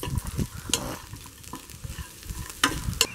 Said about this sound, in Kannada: ಇದ್ರ ಜೊತೆಗೆ ಒಂದು ಬೌಲಷ್ಟು ತೆಂಗಿನಕಾಯನ್ನು ತೊಗೊಂಡಿದ್ದೀನಿ, ಇದನ್ನು ಸಹ ಈ ಪ್ಯಾನ್ಗೆ ಹಾಕಿ ಸೇರಿಸ್ಕೊಳ್ತೀನಿ.